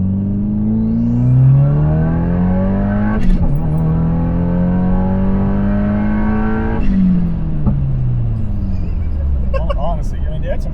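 A 2022 Subaru WRX with a tuned engine on E85 fuel accelerating hard, its engine revving up in rising pulls with shift breaks between them, loud and close from inside the car.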